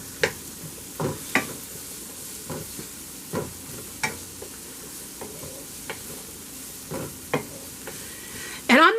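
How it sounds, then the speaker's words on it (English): Chopped celery sautés in butter in a pan for a soup, with a soft steady sizzle punctuated by repeated clicks and scrapes of a spoon stirring, fairly quiet and with no talking. "Now remember, you don't want to let that butter burn. You just want a nice saute on there."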